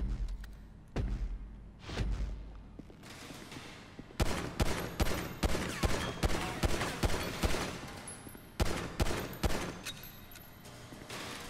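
Gunfire in Grand Theft Auto 5, with loud bursts of rapid shots, scattered single blasts and thuds in a dense, repeating volley lasting several seconds.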